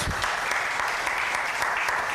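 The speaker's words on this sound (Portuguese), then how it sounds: "Salva de palmas para eles." A church congregation claps during a live worship service, a short burst of dense, even applause close by and sustained for two seconds without talk.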